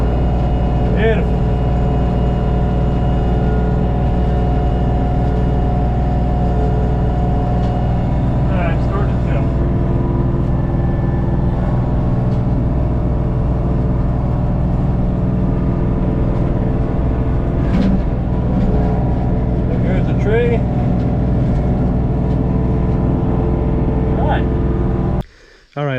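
An LS MT232 tractor engine runs at a steady, loud, close drone for about 25 seconds, with a few faint knocks over the hum, then cuts off abruptly at the very end.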